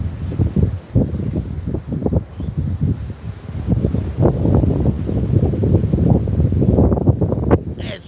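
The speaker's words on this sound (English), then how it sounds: "Wow, it's really windy." Heavy wind roars and rumbles against the microphone almost continuously, loud and gusty, with faint higher sounds now and then.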